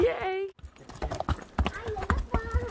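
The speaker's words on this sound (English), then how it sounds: "I guess Stang's a good lead horse" Rhythmic hoof clip-clops of horses walking on a trail ride in the Weminuche Wilderness, mixed with nearby voices talking over them.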